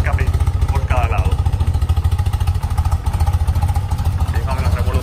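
Classic BMW R100 boxer motorcycle engine idles at steady revs with the choke pulled, a close, loud, even thumping pulse with light mechanical clatter, while someone talks over it.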